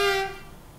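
Short toot from the horn of a DB class 423 electric multiple unit in Train Simulator, a bright tone that cuts off quickly and decays into quiet background.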